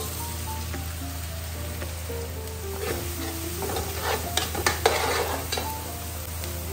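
Garlic and onions sizzle steadily in a hot pan for pork igado, a continuous close frying hiss with stirring scrapes and a few louder crackles near the end, no talking.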